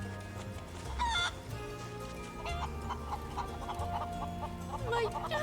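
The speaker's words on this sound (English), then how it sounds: "all your chickens are home" Chickens cluck and squawk repeatedly in the Final Fantasy VII Rebirth video game, a busy cluster of close fowl calls with a brief crow-like cry, layered over soft game background and occasional speech.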